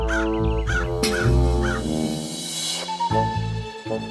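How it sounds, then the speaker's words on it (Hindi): A cartoon crow gives several quick, harsh caws in a row, loud and close, before a swell of background music takes over. "उस पेड़ के पास एक और पेड़ था जिस पर एक कौवा रहता था।"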